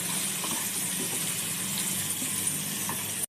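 Chopped capsicum frying in a pan, a dense continuous sizzle and hiss at steady loudness, close and uninterrupted, with no voices.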